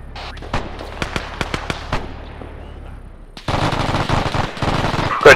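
Gunfire in a video game battle set in a Market Garden operation: sharp single shots crack at intervals, then a dense, loud burst of rapid automatic fire takes over near the end.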